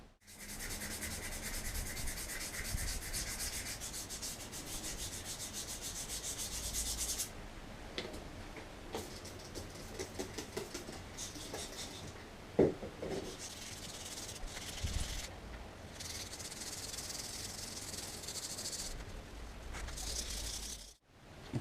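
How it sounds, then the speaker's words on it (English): An aluminium part from a Yamaha DTR 125 motorcycle is sanded by hand with 240 wet and dry paper to strip paint, giving long, close, continuous scratchy rubbing strokes with brief pauses and a clack midway. "that's it sanded with 240 wet and dry"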